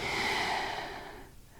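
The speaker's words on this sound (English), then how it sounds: "We're breathing freely in and out through the nose" During a yoga flow for the lower back and hamstrings, one long close breath through the nose rushes out softly and airily, then fades into quiet.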